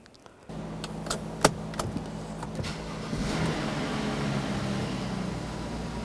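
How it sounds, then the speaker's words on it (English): A 2009–2010 BMW 535i xDrive, just refitted with a new transmission pan, starts after a brief quiet moment and then runs at a steady, even idle nearby, with a few light clicks and knocks over the hum. "We still have to start the vehicle up and run it."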